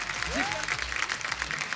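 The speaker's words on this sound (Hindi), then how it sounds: "फरहाद भाई के लिए जोरदार तालियां" Audience applause in a TV comedy show studio welcomes film director Farhad Samji to the stage: a steady, dense wash of clapping lasting the whole moment, with a voice and a few musical tones mixed underneath.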